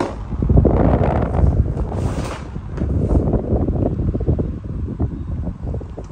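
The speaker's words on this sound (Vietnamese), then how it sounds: "Số 3 này là gió như bão luôn." A Japanese electric fan runs on its top speed setting, blowing a loud, steady rush of wind that buffets the microphone throughout.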